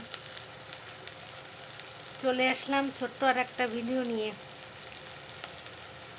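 Onion, green chili and chopped garlic fry in mustard oil in a wok, a soft steady sizzle running throughout while someone speaks briefly over it.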